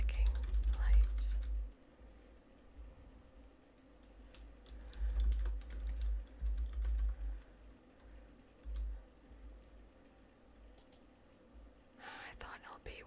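Keyboard keys and a mouse click during an Among Us game, soft scattered taps and clicks close by, heard under quiet whispered talk that comes and goes.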